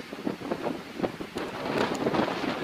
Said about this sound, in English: Crazy wind. This wind, guys. It's crazy.